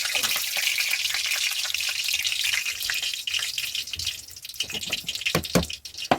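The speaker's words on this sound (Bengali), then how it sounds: "গরম হয়ে গেছে তেল, তার তেজপাতা দিয়ে দিলাম" Bay leaf and whole spices such as cloves, cinnamon, mace and cumin crackle in hot oil. A steady sizzle becomes uneven, with sharp pops and spatters toward the end, and no speech is heard.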